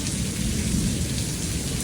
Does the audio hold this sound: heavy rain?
yes